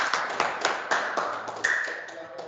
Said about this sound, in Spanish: un aplauso para José Luis